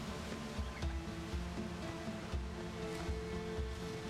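Rough ocean waves roll and wash continuously around a boat in a pirate survival game, a steady broadband surf with swells rising and falling, mid-distance and moderately loud, with no talk.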